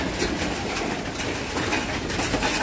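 Pigeons at a pigeon loft during rainy weather, a dense, steady mix of cooing and fluttering close by, filling the whole stretch without speech.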